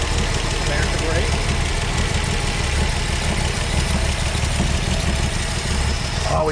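A 1966 Dodge Coronet's Slant 6 engine idling close by with a steady, slightly ticking valvetrain rhythm, running continuously with talk over it.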